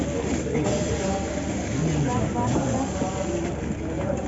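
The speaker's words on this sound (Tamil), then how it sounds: "பார்த்தீங்கன்னா ரயிலில் ஏறிட்டோம்" Steady rumble and rattle inside a third-class carriage of a Sri Lankan passenger train, a continuous low drone filling the whole stretch with faint clatter, while people talk underneath.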